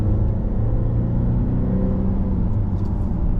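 Supercharged 2025 Volvo XC90 seven-seater accelerating, a loud steady low engine rumble and road drone heard from inside the cabin, with no talk over it.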